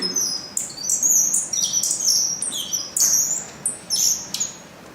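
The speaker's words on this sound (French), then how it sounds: "Ils entendirent des oiseaux chanter." Birds sing in a forest, sharp high chirps and tweets coming in quick repeated bursts, fairly close and clear over a quiet background with no voices.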